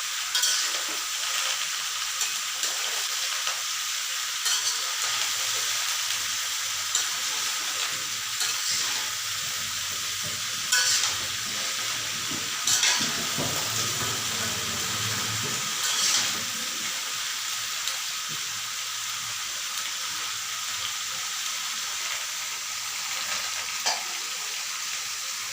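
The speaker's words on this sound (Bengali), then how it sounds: "রসুন এবং তেলের সংমিশ্রণে ভালো করে সেটা মিশিয়ে দেওয়া হচ্ছে, যাতে গাটির সাথে ভালো করে তেল মশলাটা প্রলেপ করা যায়" Raw jackfruit with garlic and oil sizzles in a pan through a long steady frying hiss, with occasional scrapes and knocks as the mixture is stirred.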